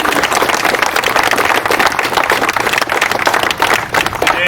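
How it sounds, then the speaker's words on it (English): Applause for residents' families and spouses at a neurosurgery graduation ceremony: dense, steady clapping from a crowd filling the room, loud and continuous for several seconds with no voice over it. "give a hand of applause to the families and the spouses of the residents that are here"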